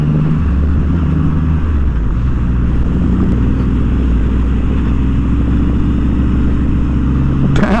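A Boss Hoss V8 motorcycle pulls away, its big engine giving a loud, steady, deep rumble that stays close and continuous throughout.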